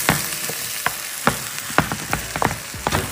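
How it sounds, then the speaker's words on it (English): Tinned tomatoes stirred and frying in a pan for a dhal base, with a steady sizzle broken by repeated sharp scrapes and clinks of the spoon against the pan at an irregular pace, close up and with no talk. "I'm gonna add a tin of tomatoes. And we're gonna stir this around and reduce those to a lovely paste."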